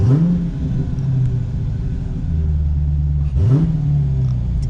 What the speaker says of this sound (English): Let's start it. Give it some gas.